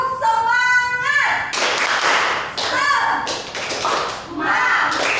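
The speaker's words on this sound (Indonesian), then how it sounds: "Tepuk semangat." A classroom of children in an Indonesian primary school performs a rhythmic spirit clap, sharp hand claps and taps in quick patterned bursts, loud and close, with children's voices and a teacher speaking over it.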